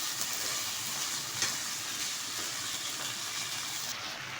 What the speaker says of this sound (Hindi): पहले हम आलू फली अदरक लहसुन में फ्राई करेंगे